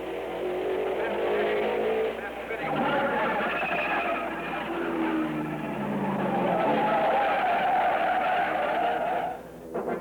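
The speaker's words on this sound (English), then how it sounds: "Bobby Unser takes to the track in a new 4-wheel drive Novi." A 1964 four-wheel-drive supercharged Novi race car roars continuously at Indianapolis, engine pitch rising and shifting as it drives, with tire noise and a narrator talking over it.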